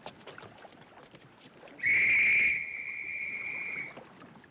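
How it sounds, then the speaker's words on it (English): An officer's whistle blown aboard the Titanic in the 1997 film, one shrill, piercing blast that starts loud and holds for about two seconds amid murmuring crowd noise and water. "That's an officer's whistle."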